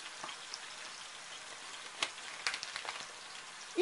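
Mushrooms fry in a pan for a bean and champignon pâté, giving a soft, steady sizzle with faint crackles and a louder clatter right at the end.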